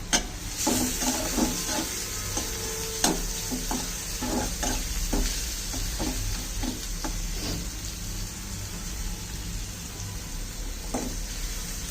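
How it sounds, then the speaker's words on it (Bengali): Onions fry with a pinch of salt, giving a steady close sizzle broken by repeated scraping and tapping of a stirring spoon against the pan. "পেঁয়াজ ভাজার সময় একটু লবণ দিয়ে দিলে পেঁয়াজগুলো তাড়াতাড়ি নরম হয়ে যায়"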